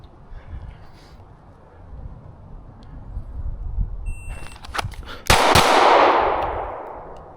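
Gunshots on an outdoor shooting range during double-tap drills on an April day: after a quiet stretch of low rumble, a few sharp, loud reports crack near the end, the last one ringing out with a long decaying tail.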